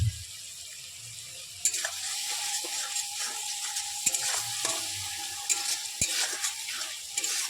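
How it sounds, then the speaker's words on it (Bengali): A spice paste with salt and turmeric fries in a pan for a Gobindobhog rice and banana blossom dish, a steady close sizzle broken by sharp clinks and scrapes of a spoon stirring. "এবার মশলাটাকে ভালো করে কষে নেব।"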